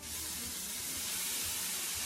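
Crushed tomatoes sizzle steadily in a hot pan, a continuous bright hissing crackle that stays loud and close for the whole stretch, with no voices over it.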